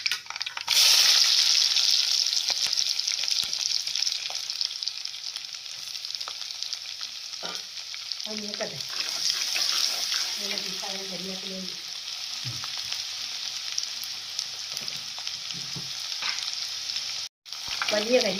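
Fenugreek and mustard seeds fry in hot oil for a kilimeen fish curry, giving a loud, steady sizzling hiss throughout, with a few stirring scrapes and light clatters in the middle.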